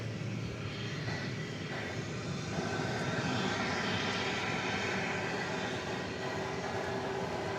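A jet airliner roars at DFW Airport at night, its engine noise a steady, unbroken rumble that holds at a moderate distance without rising or fading.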